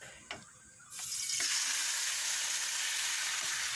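Pork sizzles in a pan as it fries until golden brown for a home-cooked pork gisantes. After a brief quiet start with a couple of clicks, a loud, steady crackling sizzle takes over and continues without talk.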